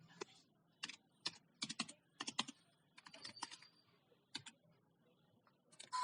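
Keystrokes on a computer keyboard tap in quick, irregular clusters with short pauses between bursts, crisp and close in an otherwise quiet room.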